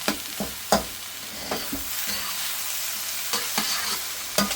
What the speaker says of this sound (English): it is literally a case of stirring all that in.